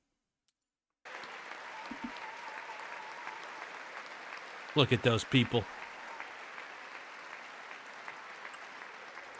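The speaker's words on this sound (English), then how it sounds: "Clapping for the goat, dude." Applause from the audience at a joint session of Congress, a sustained clapping wash that runs under a voice, with a brief burst of louder sounds in the middle.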